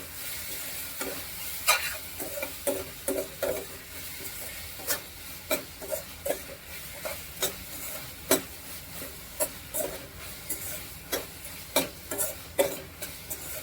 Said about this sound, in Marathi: त्यामुळे मीठ आणि हळद टाकते आता. थोडंसं हलवून घेतो, याच्याने कांदा लवकर शिजतो.